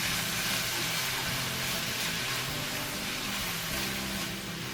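Minced meat with green seasoning being stirred in a hot pan gives a steady, close sizzle and hiss that runs without pause, with no talk over it.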